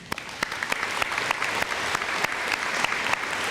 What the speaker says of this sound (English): So please help me congratulate this group of students with a round of applause